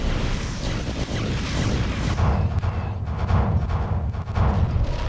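Starship weapons volleys firing in the video game Star Fleet Command, a dense rumbling barrage of booms and bursts that rolls on steadily and loudly without a break.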